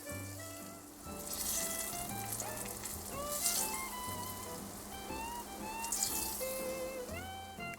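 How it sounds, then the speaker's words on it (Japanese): Fish karaage sizzling in oil in a pan inside a small van during the rainy season, a steady close crackle and spatter running throughout, with background music, no talking. "唐揚げっぽくなってきた。 おー、ちょっと焦げ目がつくぐらいまでやろうかな、念のため。"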